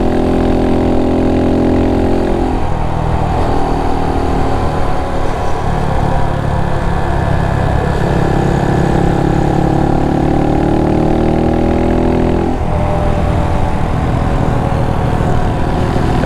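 Motorcycles lap the Barber Motorsports Park road course during a mass ride, with loud, close engine drone rising and falling through the gears and sharp pitch shifts at each change. No voices are heard.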